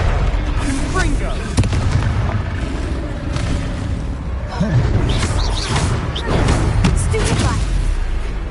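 Loud, dense barrage of booming fire-spell blasts in Hogwarts Legacy combat, a continuous roar of explosions and magical impacts filling the soundscape with no quiet gaps.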